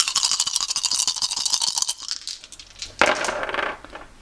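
Resin dice from a Catacombs set rattle and clatter in a rapid burst of small hard clicks, then a second, brighter tumble of dice clacks after a brief lull, with no talking.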